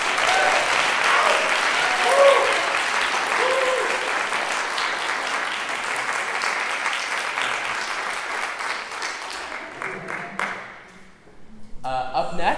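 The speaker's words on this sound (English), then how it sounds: "if we could give one more round of applause" An audience at a University of Michigan senior recital gives a loud, sustained round of applause that fades out, followed by a speaking voice.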